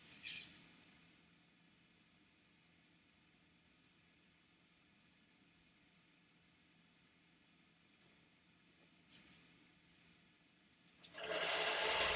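A longarm quilting machine stitching through fabric layers gives a steady, low mechanical whir that runs quietly and evenly throughout, and a sudden louder rush of noise breaks in at the very end.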